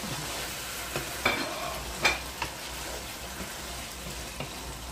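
Pork adobo stirred in a pan, a few soft scrapes and light clinks of a spoon over a low, steady simmer, fairly quiet and close.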